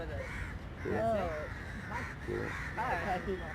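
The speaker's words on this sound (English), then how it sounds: "Cool. Birds." Crows cawing near Rabindra Sarovar Lake in Kolkata, several harsh calls in quick succession at moderate distance over steady outdoor background noise.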